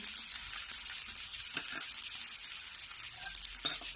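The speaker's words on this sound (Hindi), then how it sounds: "अब इसी टाइम में मैं लहसुन डालूंगी।" Garlic sizzles in hot oil in a frying pan alongside green chillies, a soft steady crackle and hiss heard close but quietly, without talk.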